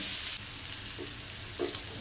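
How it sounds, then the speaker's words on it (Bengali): Bitter gourd (uchhe) fries in a frying pan with a steady, close sizzling hiss, interrupted by a couple of brief stirring knocks. "এই উচ্ছেগুলো ফ্রাই প্যানে দিয়ে দেবো এবং উচ্ছেগুলোকে প্রথমে ভালো করে গ্যাস বাড়িয়ে কমিয়ে ভালো করে"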